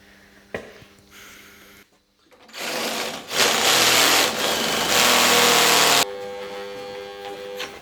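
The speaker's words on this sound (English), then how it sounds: "I need to drill through the whole thing, destroy the bolt" A power drill whirs in loud, sustained bursts with short pauses, its high-pitched motor grinding steadily after a few clicks and a brief quiet stretch, as it drills through a bolt on a Toyota AE86.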